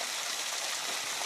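Water gushes under pressure in a brief, steady, loud rushing hiss.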